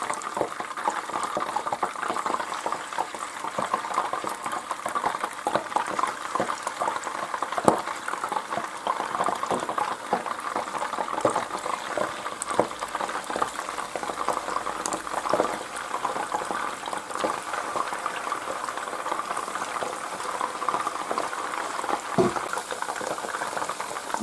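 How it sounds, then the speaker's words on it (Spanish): Rabbit pieces with garlic fry in oil in a pan, giving a steady loud sizzle and crackle with bubbling throughout and no talking. "Y se vuelve a echar, a seguir friendo."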